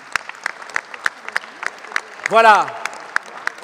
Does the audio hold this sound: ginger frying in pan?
no